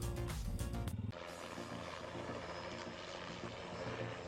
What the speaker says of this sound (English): Flying a helicopter isn't just flying, it's a ballet in the sky.